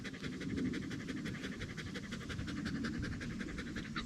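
A wet collie pants after being in the water, fast, rhythmic breaths close to the listener, continuous and unbroken with nobody talking.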